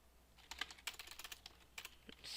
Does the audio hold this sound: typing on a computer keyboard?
yes